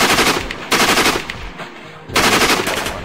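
A sentry gun opens fire in the video game Evil Genius, loud rapid automatic bursts in two long volleys separated by a short pause, with no speech over them.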